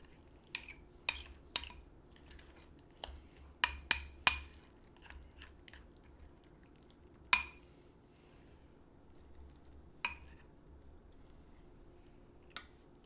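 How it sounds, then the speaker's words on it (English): A spoon stirs guacamole with lime in a bowl, making a dozen or so sparse, quiet clinks against the dish at irregular intervals, with near silence between them. "And stir it together."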